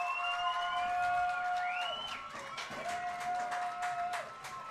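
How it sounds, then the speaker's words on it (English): A crowd cheers at a high school lacrosse game after a Viera Hawks goal, with steady, fairly distant shouting and applause. Loud whistles or sirens wail over the crowd, and there is some speech. "the crowd goes wild for the Viera Hawks"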